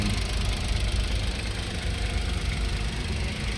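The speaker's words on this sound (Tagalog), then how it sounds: "So ito yung makina, umaandar na po." Suzuki DA17W high-roof van with VVT engine idling steadily, a continuous low rumble with mild knocking vibration heard up close, no talk over it.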